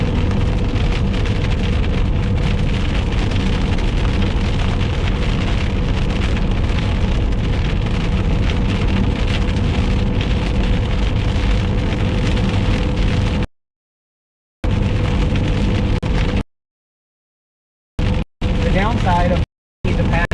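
Heavy rain pounds steadily on a car during a storm chase in southern Oklahoma, a loud, dense patter that fills most of the clip before cutting out in short gaps near the end.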